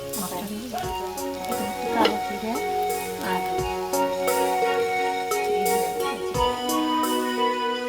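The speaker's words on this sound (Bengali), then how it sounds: "পেঁয়াজ কুচির সাথে ভাজা হচ্ছে" Chopped onion and chili slices fry in hot oil, a steady soft sizzle under a background music track with a few light stirring scrapes.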